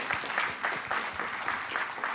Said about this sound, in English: let's give him a big round of applause for the wonderful film